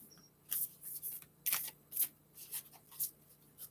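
Cards being shuffled, several quick riffling bursts with brief pauses between them, close by and with no talking.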